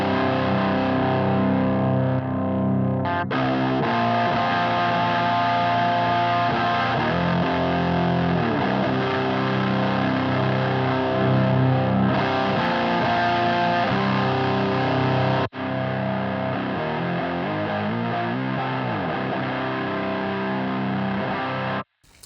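A heavily distorted electric guitar through a distortion pedal plays continuously, thick and buzzy, with a sudden cut partway through as the clipping toggle switch moves, after which the tone turns slightly quieter.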